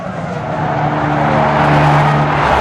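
Formula 1 Ferraris racing on a slick, oily track, a loud, close, sustained engine roar with steady tonal whine and rising intensity throughout.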